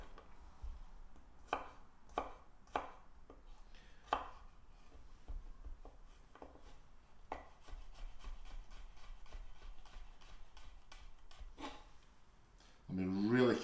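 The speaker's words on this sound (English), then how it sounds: "I'll be a lot quicker with the chopping" A knife chops garlic on a cutting board at home, producing irregular sharp taps that sometimes come in quick runs, close and fairly quiet, with some rubbing and scraping between strokes.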